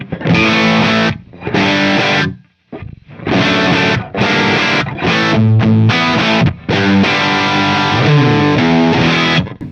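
A Fender Super-Sonic 22 amp cranked in fat mode plays loud, heavily distorted electric guitar in chordal bursts, with short gaps between phrases and no talking.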